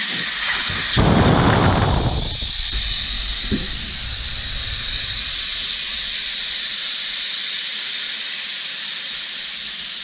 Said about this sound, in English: Now you're going to want to allow all the air to bleed out of the tire.